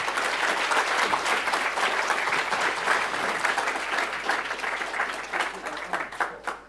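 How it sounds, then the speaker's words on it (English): Conference audience applauds continuously, a dense crowd of clapping hands at steady strength that begins to thin and taper near the end. "everybody clapped. And that applause was for you"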